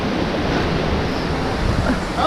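At La Leona Waterfall in a Costa Rican national park, falling water roars steadily and loudly while gusts of wind buffet the microphone.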